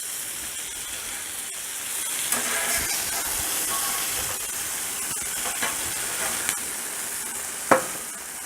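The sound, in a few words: chicken sizzling on a Blackstone griddle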